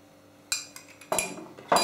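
A honey, garlic and oregano dressing being mixed: three or four bright, close clinks of a spoon against a container, spaced quickly, with no talking.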